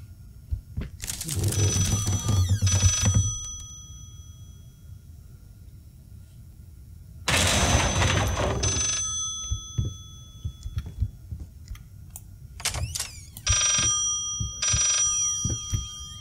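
Telephone ringing in the horror game Layers of Fear, three separate bursts of an old-style electric bell, each a couple of seconds long with silent gaps between, the last one split into two short rings.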